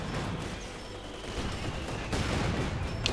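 Battle din from the Company of Heroes 2 strategy game: a dense, continuous wash of machine gun fire and scattered shots at moderate volume, with no talk.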